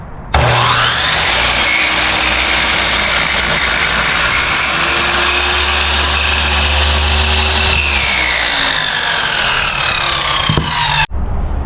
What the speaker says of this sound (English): Now we're going to cut the inner pieces for the pitcher's mound.